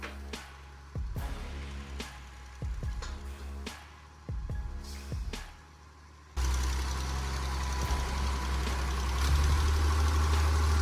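A tree-clearing machine with a long mechanical arm works on agricultural land. Its engine idles with a low rumble and sharp intermittent knocks, then swells into a louder, steady roar.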